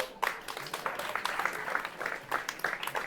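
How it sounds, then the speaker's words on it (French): An audience claps at a conference in a convention hall, a moderately dense round of applause with some distinct individual claps, continuing steadily. "On l'applaudit"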